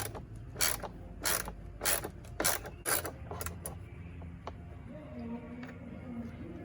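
A ratchet working a radiator bolt loose on a 2005 Nissan Altima 2.5L gives a run of sharp, bright clicking bursts in an uneven rhythm, loud and close. The bursts ease into quieter mechanical creaks and faint rattles as the bolt comes free.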